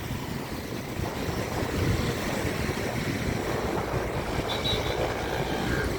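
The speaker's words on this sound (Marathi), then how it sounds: "हे नदीचं पात्र विस्तीर्ण वाहणारं" The flooding Mula-Mutha river flows through its wide channel in a steady, broad rushing roar with wind buffeting the microphone throughout.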